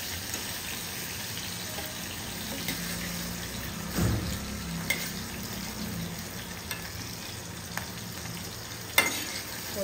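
Prawns frying in a pan for a Koli-style prawn masala, a constant crackling sizzle with a couple of louder spits and clatters standing out, close and without voices.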